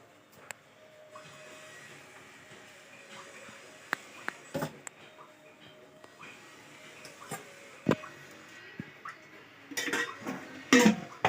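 A metal cooking pot set down on a stove while making semolina upma, soft scattered clanks and clinks over quiet background, ending in a louder burst of rattling metal contact.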